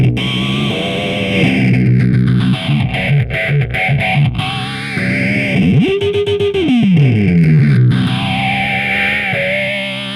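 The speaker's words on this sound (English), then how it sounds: "This one's kind of a strange combination of like distortion and something else." Heavily distorted, effects-laden tone from an N-100 PRO effects unit that swells and warps continuously, with pitch sweeps and a chorus-like shimmer, loud and alone.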